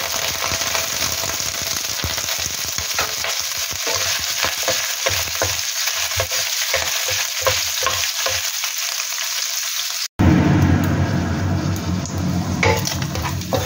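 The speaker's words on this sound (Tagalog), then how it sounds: "Kapag mainit na, ilagay na ang sausage." Sausage frying in hot oil, a constant close sizzle with stirring pulses, then a cut to a louder, rougher frying hiss near the end.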